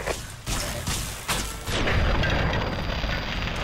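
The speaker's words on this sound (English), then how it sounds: "An explosion outside." An explosion goes off outdoors in the video game Fallout: New Vegas, a deep, heavy boom that swells after a few dull thuds and then settles into a sustained low rumble.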